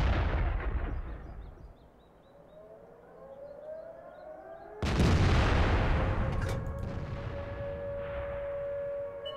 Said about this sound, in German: Wo ist denn der Schuss jetzt gelandet?